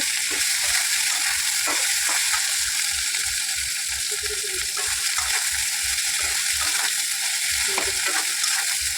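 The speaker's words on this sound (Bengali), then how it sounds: "আলু দিয়ে মশলা দিয়ে কষাচ্ছি।" Potatoes fry with spices in a pan for a lunch dish, a steady loud sizzle with rhythmic scraping strokes of a spoon stirring through the whole stretch, no voices.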